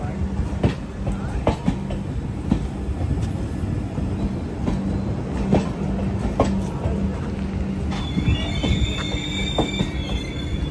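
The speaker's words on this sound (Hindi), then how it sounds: "आनंद विहार मुजफ्फरपुर गरीब रथ एक्सप्रेस" Garib Rath Express from Anand Vihar to Muzaffarpur, running with a new LHB rake, rolls past close and loud with clattering wheels, rhythmic clicks over rail joints and a high metallic squeal near the end.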